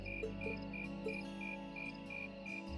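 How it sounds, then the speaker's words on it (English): A soft, steady chorus of crickets chirps in regular pulses in an autumn scene in the Trails of Cold Steel video game, with a faint low ambient hum beneath and no voices. "Insects, huh? Well, it is fall, I guess."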